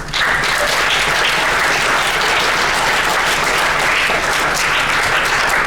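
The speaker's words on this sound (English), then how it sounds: "Let's give a round of applause for our middle school students." Sustained audience applause at a middle school Women's History Month assembly, a steady dense wash of many hands clapping at once, loud and even throughout with no pauses.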